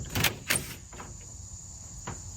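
A loosened bracket scrapes back along the bed rail of a Charger ute, two quick close metallic slides followed by fainter, softer shifts.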